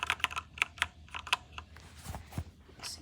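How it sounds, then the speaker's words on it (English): HITIME XVX M61 60% wireless mechanical keyboard struck hard, loud sharp clacks in a rapid uneven run up close, then a few duller heavier thuds toward the end. "the amount of noise it creates is all dependent on how hard you hit the keys"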